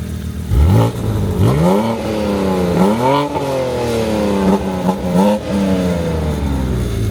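A Porsche GT3 RS engine revs hard in rising sweeps, climbing in pitch several times with brief drops between pulls. It is loud and close, with no talk over it.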